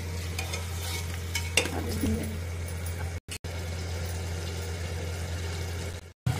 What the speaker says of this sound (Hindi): इसको तब तक भूनेंगे जब तक कि अच्छे से तेल ऊपर ना जाए मसाले के